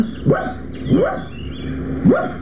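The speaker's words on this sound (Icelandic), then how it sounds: "Sparkaði í hundin, Dabbi. Hafðu þetta, hundur." A dog barks three times at a steady, unhurried pace, each bark clear and fairly close, with a low rumbling background between them and no talking.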